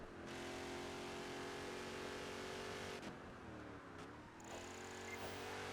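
A race car engine in Project Gotham Racing 4 drones loudly and steadily. It drops in pitch briefly under braking, then revs back up, with nobody speaking.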